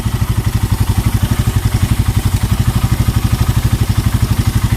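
Up close and loud, a motorcycle idles with a noisy carburetor, run to circulate oil in the engine during an oil change. Its exhaust beats in a steady, fast, even rhythm throughout.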